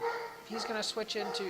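A pet dog barks and yips a few times in quick bursts close by, mixed in with someone talking throughout.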